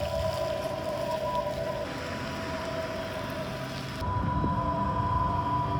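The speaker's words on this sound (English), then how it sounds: "this does make a rather loud EV sound" A 2026 Honda CR-V Trailsport Hybrid gives off a steady, fairly loud electronic EV warning hum with sustained tones, joined by a rushing drone of motion inside a parking garage.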